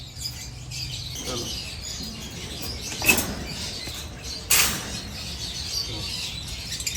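Caged pale fallow lovebirds flutter and chirp, with two sharp bursts of wing flapping standing out against a low background of faint calls and rustling.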